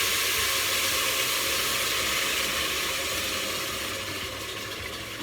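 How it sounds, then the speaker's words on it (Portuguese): Rice grains fry in a hot pan, giving a steady, even sizzle and hiss that fades slightly toward the end, with no voices. "é esse primeiro processo de fritura que existe no arroz"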